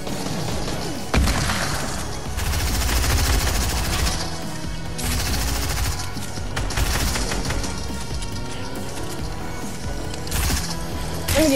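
Rapid video game gunfire, automatic bursts and sharper sniper-like shots, comes loud and dense through most of the stretch, with a few heavier impacts and no clear talk over it.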